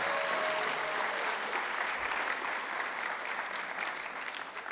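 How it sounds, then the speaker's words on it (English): An audience at a school Broadway revue show applauds the theater student crew with sustained, dense clapping that holds steady throughout and fades slightly at the end. "let's give them a round of applause"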